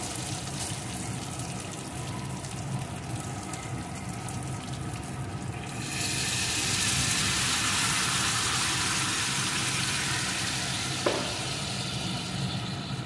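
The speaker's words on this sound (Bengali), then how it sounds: "আমি এখানে গরম জল দিয়ে দিলাম।" Hot water poured into a frying soybean and potato curry, where a steady sizzle swells into a louder, brighter hissing rush about halfway through and is capped by one small clink near the end.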